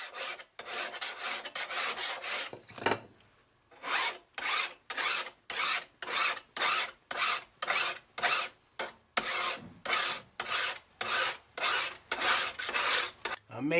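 A metal file is pushed along a machete's blade edge in a long series of regular, close rasping strokes, each sharp and scraping, with one brief pause early on before the steady rhythm resumes.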